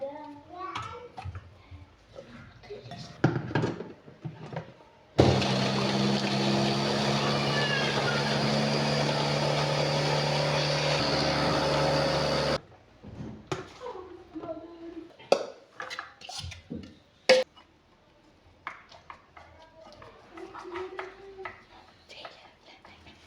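An electric chopper whirs loudly and continuously for about seven seconds while mincing parsley, peppers and garlic, with intermittent talk and kitchen clatter before and after the run.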